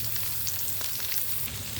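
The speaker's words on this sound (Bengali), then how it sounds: "জাস্ট একটু ভাজা ভাজা করে নেব, যাতে করে শুটকির রান্না চলে আসে, চাপা শুটকির।" Dried chapa shutki fish frying in a pan gives a steady, close sizzle with a dense crackle that holds evenly throughout, with no voices over it.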